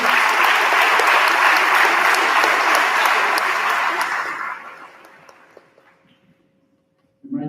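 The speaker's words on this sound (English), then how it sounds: "let's give all these people a big round of applause" An audience at a school awards night gives winners a loud, dense round of applause that fades out over several seconds, followed by near silence and a brief sound at the end.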